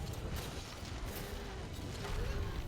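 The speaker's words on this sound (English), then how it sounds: "Big explosions." Big explosions in the Monster Hunter World: Iceborne video game, a dense rumbling roar of booms that fills the whole stretch, steady and fairly loud with no clear gaps between blasts.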